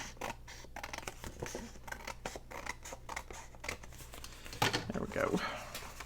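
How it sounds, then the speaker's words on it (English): Scissors snip away an overhanging edge of paper card while a handmade Z-fold journal insert is trimmed, a few short cuts and crinkles heard close up beneath ongoing talk. "we've got a little bit hanging over up here, so we're just going to trim that off"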